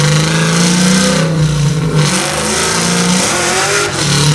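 A 900 hp supercharged LS9 V8 in a 1967 Chevy Nova roars under hard acceleration, loud and sustained from start to finish, its pitch climbing and dipping between gear changes as the tires break loose.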